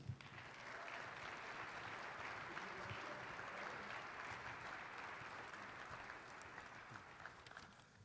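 An audience at the Basketball Hall of Fame applauds at an economic development report event, a steady dense wash of clapping that holds evenly throughout, heard from a distance.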